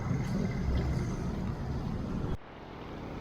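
Hectic street traffic on a rainy day, a dense rumbling wash of passing cars that cuts off abruptly near the end, leaving a quieter, duller background hum.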